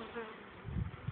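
Honeybees buzz steadily at an open beehive during a late-summer hive inspection, a dense continuous drone close by with low rumbling handling noise toward the end.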